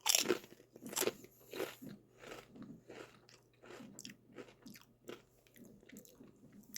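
Close, loud crunching and chewing of Walkers Sensations slow roasted pork and apple sauce crisps, a limited-edition Easter flavour, with sharp bites at the start fading into a steady run of softer crunches; no talking.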